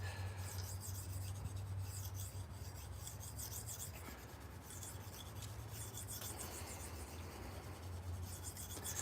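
A knife is worked against a sharpening stone in steady back-and-forth strokes, producing a continuous close rasping scrape with rhythmic pulses over a low background hum.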